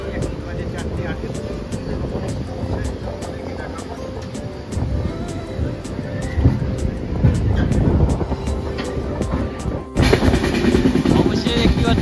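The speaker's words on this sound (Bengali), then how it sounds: "আবার ট্রেন ছেড়ে দিয়েছে ভুবনেশ্বর থেকে" The Dhauli Express pulls out of Bhubaneswar station toward Puri, heard from inside as a continuous rumble with rhythmic rattling and clacking that grows louder toward the end while people talk over it.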